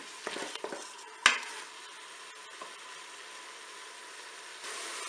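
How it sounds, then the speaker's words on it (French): Filet mignon browning in the pot of a Cookeo multicooker, a low steady sizzle with a sharp clack of a utensil early on and a few lighter knocks, close and fairly quiet, with no talking. "on essaye de dorer bien notre filet mignon sur toutes ses faces"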